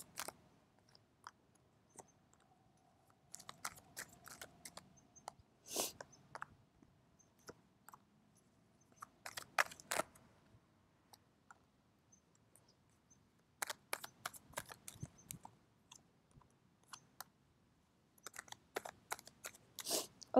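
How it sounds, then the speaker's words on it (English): A deck of tarot cards is shuffled close up in a quiet room, heard as scattered soft riffling and flicking bursts clustered in short spells, with pauses in between. "I need to shuffle out the cards."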